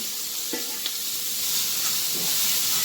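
Pan drippings being scraped and stirred loose from the bottom of a hot skillet while deglazing for gravy, a steady close sizzle and hiss with a few soft scraping knocks, no talking.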